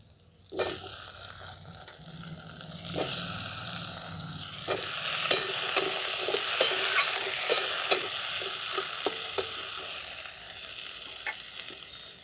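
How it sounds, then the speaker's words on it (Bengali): Chopped potatoes and onions sizzle loudly in hot oil while a spatula stirs them, giving a steady frying hiss punctuated by repeated scraping and tapping strokes against the pan. "এই আলু আর পেঁয়াজ একসঙ্গেই ভাজা ভাজা হতে থাকবে"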